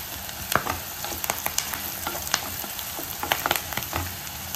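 Sliced onions fry in hot oil with a dense, close sizzle. Frequent sharp crackles and spatters stand out from it, along with scrapes of stirring all the way through.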